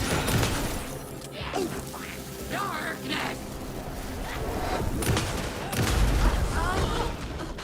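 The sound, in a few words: enemy suicide explosion in the video game Alan Wake 2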